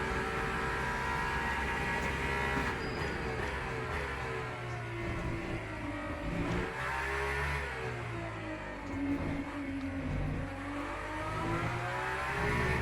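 A hypercar engine in the Le Mans Ultimate racing game drones steadily at high revs, its pitch rising and falling through gear changes and corners over a continuous tyre and wind rush, with no voices.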